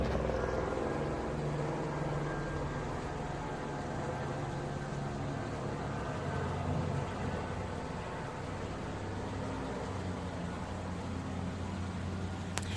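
A police helicopter's steady rotor drone hums continuously at a distance, a constant broadband whir with no voices.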